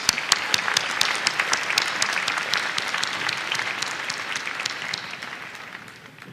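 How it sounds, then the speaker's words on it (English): A large audience at a Washburn University fall 2022 commencement ceremony applauds the Washburn Wind Ensemble with steady, dense clapping that stays strong throughout and thins slightly at the end. "Let's give them a round of applause"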